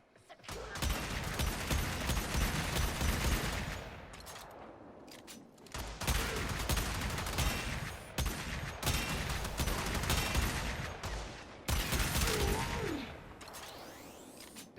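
Aklex Prime dual pistols, corrosive build, firing in the game Warframe: dense, sustained bursts of rapid shots in three long volleys with brief reload pauses between them, loud and close, with some talk mixed in.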